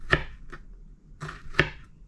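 Knife slicing bitter gourd (ampalaya) thinly for a salad, giving a few sharp close chops and cuts at an irregular pace with quiet pauses between them.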